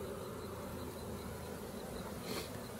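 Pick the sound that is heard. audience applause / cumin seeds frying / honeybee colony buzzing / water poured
honeybee colony buzzing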